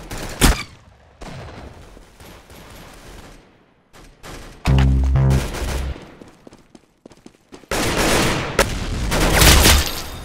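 Video game gunfire: loud close bursts of rapid automatic shots and single cracks, broken by short quiet gaps, with a sustained heavy volley near the end.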